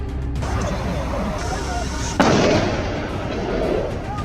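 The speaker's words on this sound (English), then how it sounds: "Following the sharp crack of gunfire, the fleeing targets were brought down with supremely accurate shots." A sharp gunshot crack cuts through a busy, noisy scene of a wild boar hunt on a farm, followed by rumbling commotion and muffled voices.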